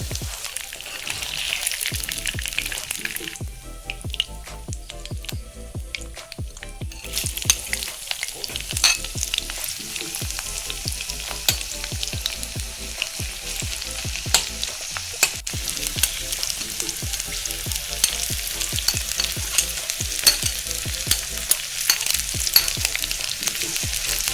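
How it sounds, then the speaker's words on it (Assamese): Meat frying in oil in a wok, a loud continuous crackle and sizzle with dense popping that runs the whole time, broken by occasional stirring scrapes close by. "মাংসখিনি দি দিয়াৰ পাছত এনেকুৱানো ফুটিছেও।"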